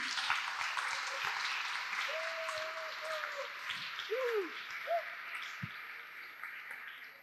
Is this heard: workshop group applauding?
yes